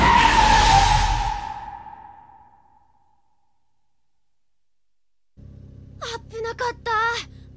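A car spins out on a mountain road in an anime, tires skidding in a loud, screeching burst that fades away over a couple of seconds, followed by silence and then a low hum with brief speech.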